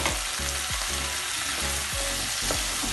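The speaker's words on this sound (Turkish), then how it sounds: "salça ve soğanlarım güzel kavruldu" Tomato paste and onions sauté in a pan with a continuous loud sizzle, while a spatula scrapes and stirs in a regular rhythm about every half second, with no one speaking.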